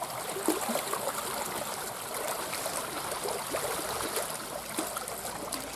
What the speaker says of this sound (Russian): Там вот видно, что труба лежит, и вода идет во всю трубу.